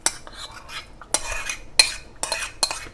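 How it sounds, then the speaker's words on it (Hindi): Fried raw mango pieces, pits still in, go into a pot for sweet mango guramba, giving a few close, bright metallic scrapes and clinks of a spoon against the pot in short bursts with pauses between. "हमारी कैरी जो हमने फ्राई करके रखी थी ये उसकी गुठली समेत ये देखिए ये हम सब इसमें डाल रहे"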